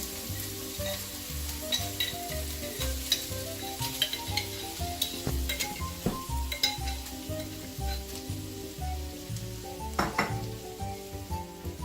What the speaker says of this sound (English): Now I'm gonna add half of the tomato sauce to the pan.